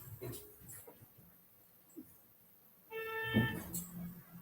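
Two dogs running give short high yips and a whimpering cry, faint at first and then a louder yelping burst near the end, set against a quiet indoor background.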